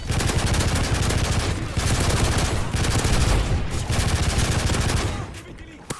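Rapid, continuous SMG fire in Modern Warfare III Survival rattles loud and dense for several seconds, with only brief dips before tapering off at the end.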